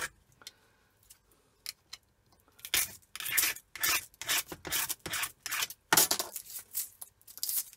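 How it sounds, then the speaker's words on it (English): A hand scraper rasps against a surface in quick, uneven strokes, starting with faint scattered scratches and building into a denser run of close, gritty scrapes. "if I come up and just scrape the corners off"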